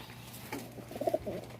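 A pigeon in its coop gives a soft, close, low cooing call, a short throaty burble rising near the end over faint background hum.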